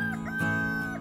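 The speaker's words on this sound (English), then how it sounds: "We also have a rooster." A rooster crows once, a short harmonic call from a bird kept at home, heard close and clear with little else around it.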